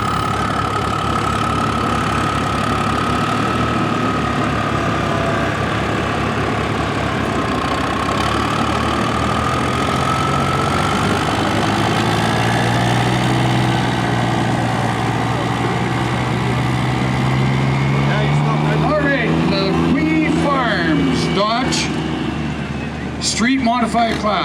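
A Dodge diesel pickup in a street modified class with a big turbo and twin exhaust roars steadily at a truck pull at an agricultural fair, engine rising in pitch, with a commentator talking over it.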